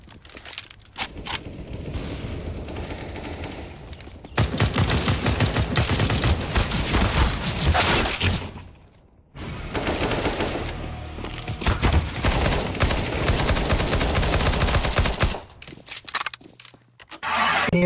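Gunfire in the video game CS:GO, with repeated loud, close volleys of rapid shots over several stretches, broken by short quiet gaps, amid in-game movement sounds.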